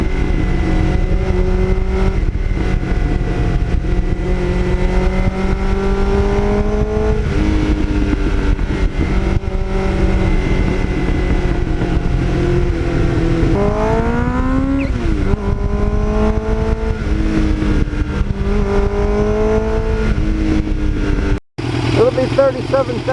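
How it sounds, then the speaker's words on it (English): A restored 1989 Kawasaki Ninja motorcycle engine runs steadily and loud throughout, its tone shifting as revs rise and fall, with someone talking over it and a brief dropout near the end. "I just love the way that engine runs. What a great engine that is."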